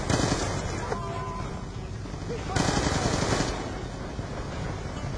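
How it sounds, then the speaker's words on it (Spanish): Gunfire in Call of Duty Black Ops II, dense rapid automatic bursts close by, with a louder stretch midway and game sounds underneath, continuing steadily throughout. "Aquí me está disparando por ahí."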